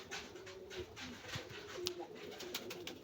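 Pigeons coo softly in a low, repeated murmur, with faint rustling and scattered clicks in the background.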